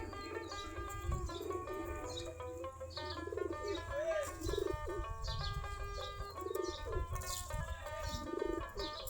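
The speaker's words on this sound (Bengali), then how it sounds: "আমাদের সবগুলাই দেশি জাতের কবুতর, দেশি গিরিবাজ কবুতর।" Native Deshi Giribaz pigeons from a flock of thirty to forty pairs coo in soft, overlapping rounds, repeated throughout alongside faint chirps and background noise.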